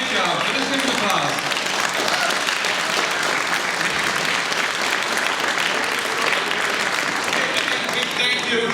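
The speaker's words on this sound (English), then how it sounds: "So let's give him applause." An audience at a charity concert applauds at length, a dense, steady roar of many hands clapping with a murmur of voices underneath.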